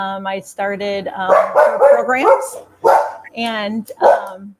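A pet dog barks in short, loud bursts indoors, the barks interleaved with and partly over a woman's nearby speech.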